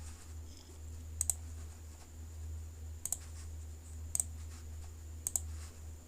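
Quiet computer keyboard typing while entering details on an online court fee payment form, four short clusters of soft key clicks spaced a second or two apart over a low steady hum.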